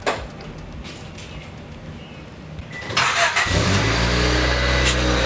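Car engine starting with a Flex Tape-patched muffler, a steady low broadband hum that jumps into a louder, fuller idle roar about three seconds in and holds.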